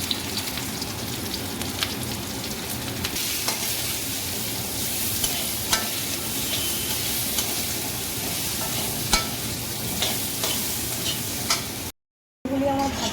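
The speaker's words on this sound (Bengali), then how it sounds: "আলুগুলোকে আমি লাল লাল করে ভেজে নেব" Potatoes frying and sizzling in hot oil in a wok, a steady dense crackle with occasional stirring scrapes, close and continuous, briefly cutting out near the end.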